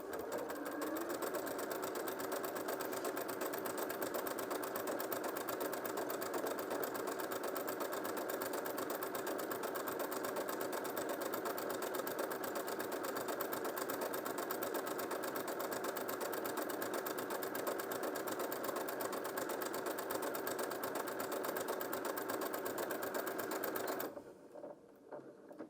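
Janome M100QDC sewing machine stitching fabric with a steady, continuous mechanical whir and rapid needle rhythm, running close and even for most of the stretch before stopping abruptly near the end.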